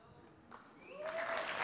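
Audience applause at a live comedy show, swelling quickly from scattered claps into loud, dense clapping.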